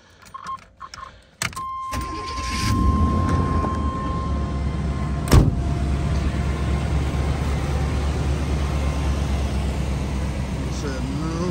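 A 1991 Chevy G20 conversion van with a 5.7 V8: after a few clicks and a short beep, the engine turns over and settles into a steady, loud idle rumble that continues to the end.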